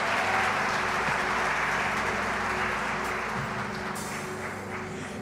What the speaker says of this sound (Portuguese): Quero convidá-lo a dar uma salva de palmas à Mãe Maria e a todas as outras mães desse mundo.